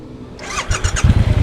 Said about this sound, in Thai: เดี๋ยวมันต้องกำคัด สตาร์ท